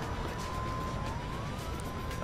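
A police car siren from the Emergency 4 video game, a Brazilian São Paulo mod, wails in a faint rising and falling tone over a loud, steady engine and road rumble.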